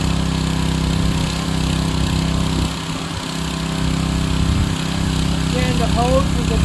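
A small engine on a pressure washer feeding a sandblaster runs at a steady drone, dipping briefly in the middle before picking back up, close by with a faint voice near the end.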